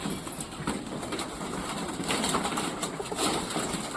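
Domestic pigeons and their grown chicks cooing in a home loft, soft repeated coos and rustling over a steady background hum, fairly close, with no talking.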